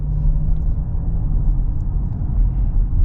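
A Hemi V8 in a 2022 Jeep Wagoneer Series II, heard from inside the cabin while cruising, gives a smooth, steady low drone mixed with road noise and no revving.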